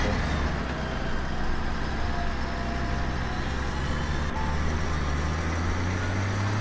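A Case tractor in Farming Simulator 17 drones steadily, its engine a constant loud hum layered with a high whine from the transmission, unbroken and with no talk over it.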